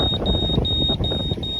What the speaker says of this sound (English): So my radar just warned me.